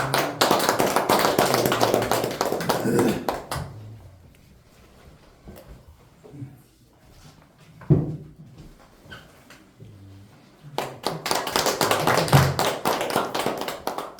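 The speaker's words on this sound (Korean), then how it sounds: "우리 윤장년 교수님 박수로 좀 모시겠습니다." An audience at a leadership academy's opening ceremony claps to welcome a professor: a burst of dense applause, a quiet stretch with a few stray sounds, then a second round of clapping.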